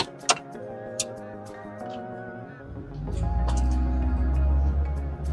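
A 2013 Honda Fit base model pulls away from a dead stop on a very steep hill: a few sharp clicks, then a low engine drone that swells and holds steady, close up from inside the car.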